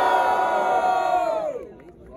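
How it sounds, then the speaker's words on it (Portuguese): A rap battle crowd cheers, whoops and shouts in one loud, dense burst of voices that tails off after a couple of seconds. "Quero ouvir muito barulho para o Breno."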